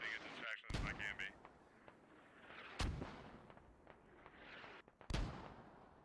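Mortar fire in the SquadOps video game: a few loud, sharp blasts spaced seconds apart, with a rumbling background between them.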